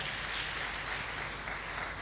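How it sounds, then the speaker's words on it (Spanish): A church congregation claps together in a steady, dense wash of applause that holds evenly throughout, with no pause or voice standing out. "Dar un aplauso a Cristo, por favor"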